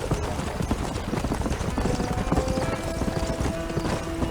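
Horse hooves clip-clop steadily and fast in the Western video game Red Dead Redemption, a loud, close, continuous galloping rhythm that fills the whole stretch.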